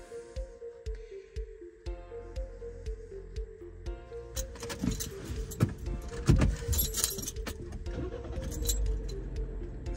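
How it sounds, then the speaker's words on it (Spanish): Car engine starting and idling after keys jangle, with rumble building midway and settling into a steady running drone; no talk. "Encendemos nuestro coche"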